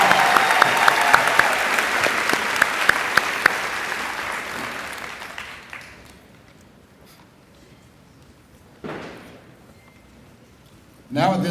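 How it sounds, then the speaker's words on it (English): A crowd at a high school graduation ceremony applauds the three speakers again with dense, sustained clapping. The clapping fades out after a few seconds, then a short burst of cheering is followed later by another brief swell of crowd noise. "Can we give our 3 speakers another round of applause?"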